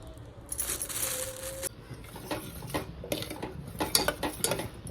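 Clinks and scraping as jaggery goes into a pot of moong dal payasam being made as a Navaratri prasadam, with near metallic knocks and stirring clatter in a steady run, no talking.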